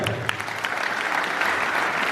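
A church crowd at a choir's 25th jubilee applauds steadily, a dense wash of clapping that stays loud and continuous throughout.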